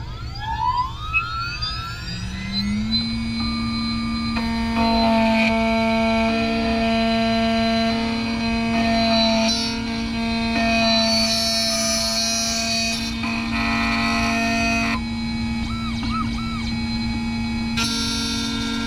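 Xhorse Dolphin key cutting machine cutting a Grand Prix ignition key blank, giving a steady, loud motorised whine with bright tonal harmonics that shift slightly in pitch through the cut, with no talking.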